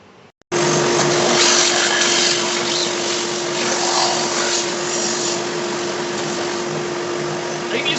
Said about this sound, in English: And I'm going to do all that with a belt sander.